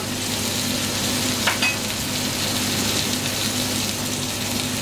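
Banana is added to a cooking pot for a Peruvian-style fish dish, a constant loud frying hiss with a brief soft splash as it drops in, the sizzle continuing steadily.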